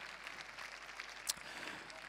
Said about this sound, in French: Un petit tonnerre d'applaudissements supplémentaires